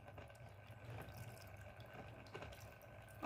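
Water trickles steadily out through a sediment filter for an RO system, a soft continuous running and dripping flow heard close by with no talking.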